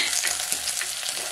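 Shallots, curry leaves and green chilies sizzle and crackle in hot oil in a pan, a close, continuous frying hiss with small popping bursts.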